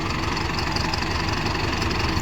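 A tractor engine idles nearby with a steady low rumble and rhythmic knocking chug, continuous and unchanging.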